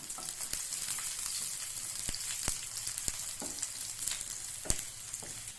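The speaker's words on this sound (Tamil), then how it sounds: "ஒரு நிமிஷம் வதங்கட்டும்." About ten cloves of finely chopped garlic sauté in a pan for bread Manchurian, a dense, even sizzle throughout with several sharp spatula clicks against the pan.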